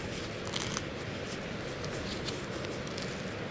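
A Siberian iris clump being cut apart by hand gives a dense, close rustling and crunching of roots and leaves, with a few crisp snips, steady and fairly loud, with no voices.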